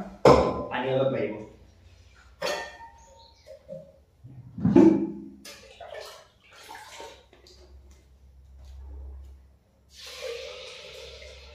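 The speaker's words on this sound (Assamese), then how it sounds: "এতিয়া কুকাৰত পানী অলপ পাৰিব" Water poured into a pressure cooker while a simple vegetable dish is cooked, a short splashing rush near the end after stretches of talk and kitchen knocks.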